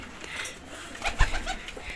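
A female pigeon gives a few soft, close coos, with a brief rustle or flutter partway through, against a low ambient background.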